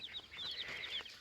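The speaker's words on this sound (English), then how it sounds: "But here's the chickens." Chickens on a small farm cluck softly in a quick series of faint, high calls, heard close by but at low volume during an evening watering.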